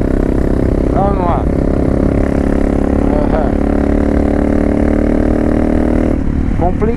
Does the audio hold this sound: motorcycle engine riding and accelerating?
yes